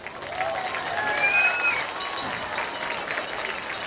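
Crowd applause and cheering for the band seniors at a high school football game, a dense, steady wash of clapping and voices with whistles and shouts rising over it, sustained throughout.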